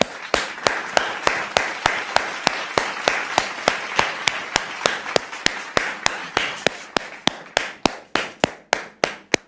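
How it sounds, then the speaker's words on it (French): A studio audience on a French-language TV talk show clapping in rhythmic unison, a long run of sharp, evenly spaced claps about three per second, loud and close, with no voices over them. "Merci de recevoir Dame Sephora sous vos applaudissements"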